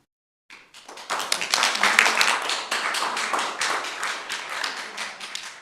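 Audience clapping at a Gurnee village board meeting, a dense burst of many hands starting abruptly and holding steady for several seconds in an indoor hall, with no talk over it.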